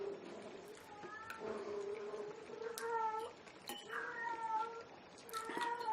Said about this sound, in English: I have a cat that keeps looking for me no matter what I do.